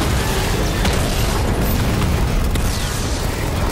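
A missile barrage in Batman Arkham Knight, a dense wall of heavy explosions and rumbling booms that stays loud and continuous throughout, with no voices.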